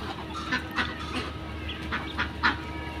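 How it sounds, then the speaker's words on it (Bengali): Ducks feeding outdoors in the morning give repeated short quacks and honking calls over a low background hum, some closer and louder than others. "হাঁসগুলা খাইতেছে, সুন্দরই লাগতেছে আর ডাকাডাকি করতেছে"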